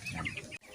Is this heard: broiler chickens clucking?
yes